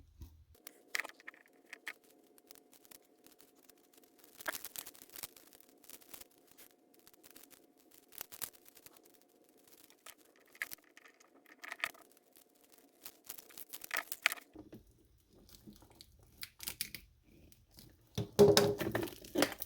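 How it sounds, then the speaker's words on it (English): Spinnaker Hass mustard-yellow automatic watch being unwrapped from its packaging: intermittent close crinkling, crackling and tearing of wrapping, with soft thunks and clicks scattered through quiet gaps, no talking. "I gotta unwrap it"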